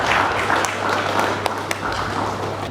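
An audience at a summit in Nigeria breaks into sustained applause, a dense wash of many hands clapping steadily with a few louder individual claps standing out, filling the room throughout.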